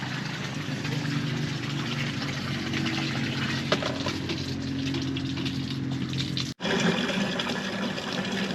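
Water gushing under good pressure from a tap at a roadside water station in Tanzania, a steady, loud, continuous rush with a brief drop near the end before it resumes.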